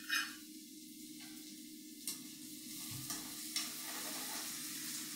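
Onions with salt sauté in a pan, a soft continuous sizzle under occasional quiet stirring scrapes, close but faint.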